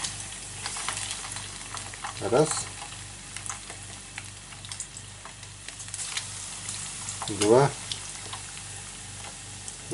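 Ide fish ribs fry in a hot pan with a steady low sizzle, broken by two louder clattering bursts as pieces go in, while a voice counts under it.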